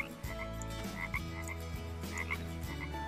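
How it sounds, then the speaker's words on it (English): In the jungle survival game Green Hell, a cane toad croaks in a steady, low, pulsing call, fairly close and continuous, with faint ambient jungle tones behind it. "Oh, cane toad."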